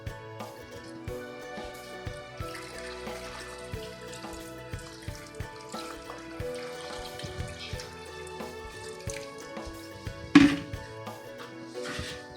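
Water trickles and drips over beef trotters in a pressure cooker, light splashes and patters scattered throughout with a sharper knock near the end, close and fairly quiet.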